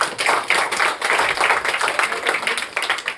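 Audience clapping dense and steady throughout to welcome panchayat members at a free beauty parlour and sewing training centre event, a fairly loud, busy patter of many hands.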